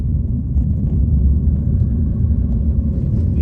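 A Nissan X-Trail driving along an outback bush track, heard as a steady, loud low rumble of engine and road noise from inside the vehicle, continuous without voices.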